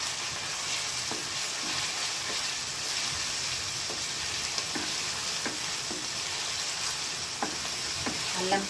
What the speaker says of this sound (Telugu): అల్లం పచ్చి వాసన పోయేంత వరకు వేయించాలి బాగా ఆయిల్లో